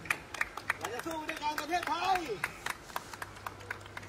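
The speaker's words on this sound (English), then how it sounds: "they are showing gratitude by clapping" Scattered hand claps ring out as people applaud doctors and nurses, irregular and spread out, while a voice talks over them at a moderate distance.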